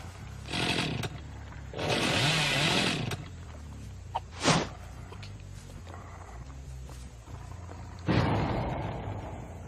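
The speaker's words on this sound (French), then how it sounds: "si j'appuie sur LT, on peut utiliser la tronçonneuse" A chainsaw engine in the video game Dead by Daylight revs in loud bursts, rising and falling several times with quieter gaps between, alone without talk.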